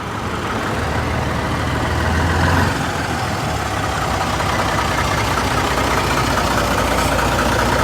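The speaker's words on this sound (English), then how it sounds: "Another one of these enormous Scamels coming in." An enormous six-wheel-drive Scammell heavy vehicle arrives at an outdoor steam rally, its deep diesel engine chugging steadily and loudly at close range amid a broad, busy background wash.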